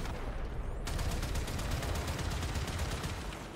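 Ship cannons on a Railjack in the Warframe game fire in a steady rapid stream of heavy, rattling shots over a constant engine-like roar, loud and unbroken after a brief quieter start.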